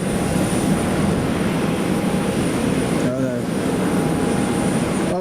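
A Jet2 aircraft arrives at Manchester Airport with a steady, moderately loud engine roar and a faint whine, and a voice briefly comes through in the middle.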